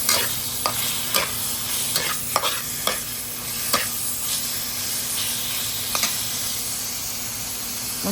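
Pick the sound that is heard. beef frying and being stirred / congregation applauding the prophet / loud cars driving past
beef frying and being stirred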